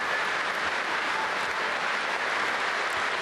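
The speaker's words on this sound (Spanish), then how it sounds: "Se aplaude en pie" Sustained standing ovation applause fills a large assembly hall during a Russian presidential address on Crimea and Sebastopol, a dense, steady wash of many hands clapping at even loudness throughout, with no voices above it.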